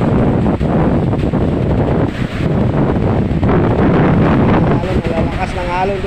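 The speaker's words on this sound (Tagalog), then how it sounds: "Malalakas ng alon dito." Strong sea waves pound the shore at Barangay Talisay, San Andres, Quezon, a loud rushing roar mixed with heavy wind buffeting the microphone, with someone talking over it.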